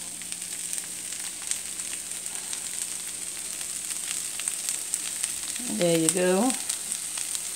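Food sizzles and crackles steadily in a hot wok, a constant frying hiss with a brief voice speaking near the end.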